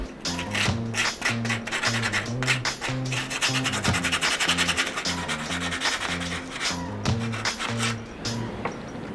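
A wooden piece for a homemade plant stand being sanded by hand, with rhythmic back-and-forth rubbing and scraping strokes up close, steady and continuous.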